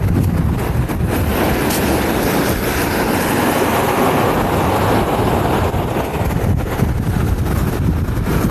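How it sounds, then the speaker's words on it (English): On a Jersey Shore beach south of Atlantic City, near a jetty, strong wind roars steadily across the microphone, with a continuous broad rush of ocean waves blended underneath and no talk. "Watch the waves?"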